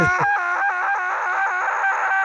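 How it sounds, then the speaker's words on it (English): A sustained, wavering disembodied scream with a strained, pulsing vocal tone, loud and continuous throughout with no speech over it. "It's still screaming at you."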